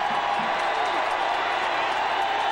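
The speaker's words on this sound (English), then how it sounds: "The Clemson crowd comes alive on third and long." A packed Clemson college football stadium roars in a steady, dense wall of crowd noise during a 1995 game against Virginia, with a commentator's voice faintly underneath.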